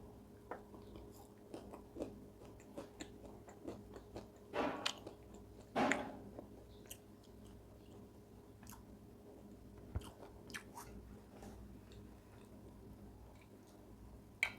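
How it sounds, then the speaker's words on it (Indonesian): Quiet, close chewing and crunching while eating sambal teri kacang, a spicy chili sauce with anchovies and peanuts, with soft irregular bites and a couple of louder crunches. "Kita nyoba sambal teri kacang."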